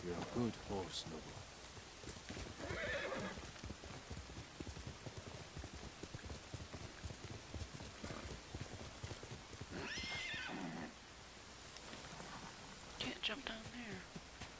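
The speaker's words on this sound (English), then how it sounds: "You're a good horse, Noble." Horse in Ghost of Tsushima, trotting hooves over rain with a few short whinnies and snorts, faint and distant in the game mix, while a voice talks quietly over it.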